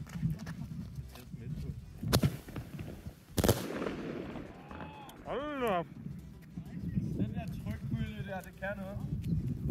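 Two big Thundershot firecrackers, a Combat and an Aldi one, explode in turn with loud, sharp cracks about a second apart, under steady outdoor chatter from several people.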